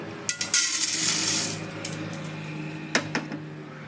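Dry chana dal (split chickpeas) is poured from a small cup into a pan on a gas stove. The grains make a bright, rattling patter with a few sharper clicks at the start and near the end.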